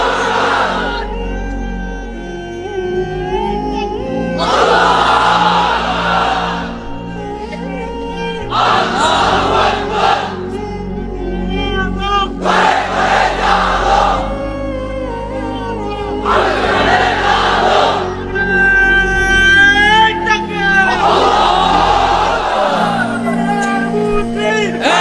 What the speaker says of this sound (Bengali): এবার অবিবাহিতরা দাও লিল্লাহে তাকবীর।